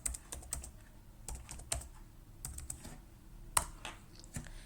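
Someone types on a computer keyboard nearby, an uneven run of soft clicks and taps with short pauses and one sharper keystroke near the end.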